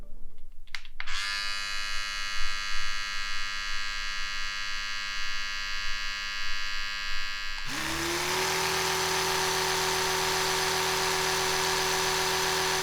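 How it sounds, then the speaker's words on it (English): An Oral-B iO Series 2 or Smart 1500 electric toothbrush motor runs close by with a steady, high-pitched buzz. Partway through it switches to a harsher, brighter whir that continues alone with no speech. "A positive knock-on effect of the IO's new motor is the noise the brush produces."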